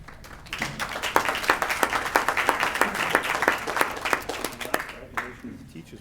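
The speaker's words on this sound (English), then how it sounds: "Teachers were clapping." A small group of teachers clapping at a county commission meeting, individual sharp claps distinct within a modest patter that starts after a short pause and fades near the end, with faint voices beneath.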